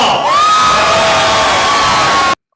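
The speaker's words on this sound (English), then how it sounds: "There's nothing worse than cheap applause like that" A loud live crowd cheering, whooping and shouting in a sustained roar that starts full and holds for about two seconds, then cuts off abruptly to silence.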